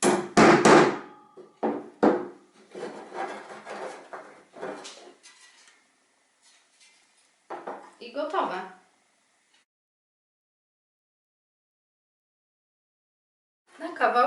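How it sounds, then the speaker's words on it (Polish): A handful of sharp metallic hammer strikes on sheet metal ring out near the start, followed by scattered clanks and knocks, then a long stretch of near silence. "Pomagając sobie młotkiem."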